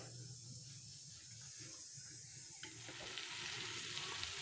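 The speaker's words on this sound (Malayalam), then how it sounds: "ഞാനിത് ഒന്ന് അടുപ്പത്ത് വെച്ച് ചൂടാക്കിയിട്ട് വരാം ഒന്ന് യോജിപ്പിച്ചിട്ട് കാണിക്കാം" Jaggery and green gram heating in a pan on a stove while being stirred, giving a steady soft sizzle and bubbling with faint scraping, a little louder toward the end, with no talking.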